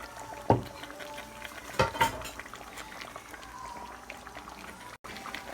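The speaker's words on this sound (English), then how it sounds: "And then I add the marinade and everything to it." Marinade pours into a pan of Haitian fish stew, giving a few brief splashing sizzles early on that settle into a soft, steady bubbling simmer.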